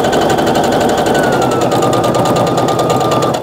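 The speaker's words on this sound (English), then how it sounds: "now I can sew all the way down, stop with my needle down" A sewing machine stitches a pinwheel quilt block, running at a steady rapid whir with an even mechanical chatter, close and loud without pause.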